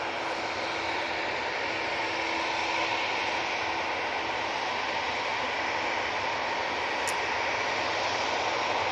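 A TUI Boeing 737-800 jet at Manchester Airport, bound for Kavala, gives a steady, broad engine roar with a faint low tone running beneath it, fairly distant and unbroken, with no voices.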